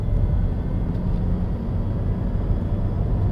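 A Vauxhall Astra accelerates hard at full throttle in third gear from 30 mph toward motorway speed, a steady low engine rumble heard from inside the cabin mixed with road noise.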